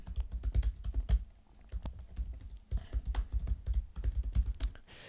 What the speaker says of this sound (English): I'm also going to do my little type test here.